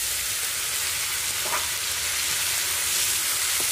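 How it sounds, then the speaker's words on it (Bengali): Masala spice paste with ground tomato frying in oil gives a steady, close sizzle, with faint stirring scrapes and no talk. "মশলাটা আস্তে আস্তে ভাজা হয়ে একটুখানি তেল ছেড়ে দিয়েছে"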